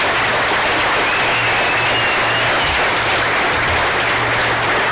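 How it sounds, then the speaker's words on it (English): Large crowd at an electric cooperative's annual meeting applauding the staff team, a dense, even wash of clapping that holds steady and loud from start to finish. "So please give them a good round of applause as well"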